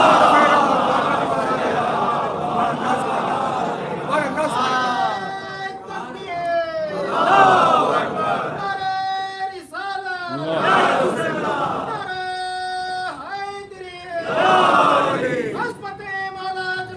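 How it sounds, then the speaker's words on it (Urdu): A large congregation at a religious gathering loudly chants salawat in unison, a swelling roar of many voices that rises and falls in repeated waves. "بلند آواز صلوات بھیجئے، بلند آواز۔"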